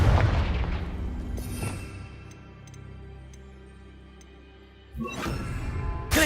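A fiery Confringo explosion spell is cast in Hogwarts Legacy, starting with a loud booming blast that fades to a low rumble with faint ticks, then ending in a second sharp burst.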